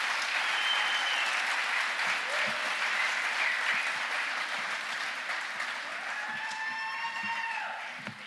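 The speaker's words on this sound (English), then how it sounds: "So I think a round of applause for GB." A banquet audience applauds steadily and fairly loudly, sustained clapping filling the room with a few faint voices and a brief whistle near the end.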